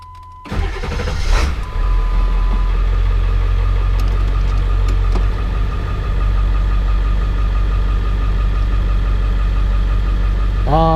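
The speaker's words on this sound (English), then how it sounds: "I'm going to start it and let it idle for a bit." A 2001 Ford F-250 Super Duty pickup engine cranks briefly, catches and settles into a steady, loud idle close by, its low rumble continuous for the rest of the clip.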